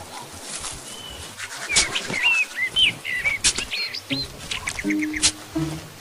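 Birds in an Ice Age animated film scene chirp and tweet in a rapid series of bright, close calls, with some wing flutter and a few low murmurs toward the end.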